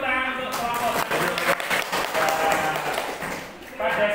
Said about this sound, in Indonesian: Ya beri tepuk tangan untuk